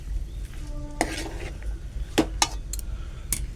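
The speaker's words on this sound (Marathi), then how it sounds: "चांगलं ढवळून घेऊ." Val bean birde curry being stirred in a cooking pot, with a few sharp clinks of a spoon against the metal rim over a low background hum; no one talks.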